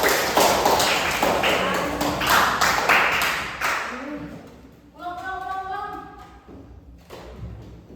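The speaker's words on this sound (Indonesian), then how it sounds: "Tepuk tangan untuk kelompok ulang." A classroom claps for a student group, a brief burst of quick, close applause that fades out, followed by a voice talking.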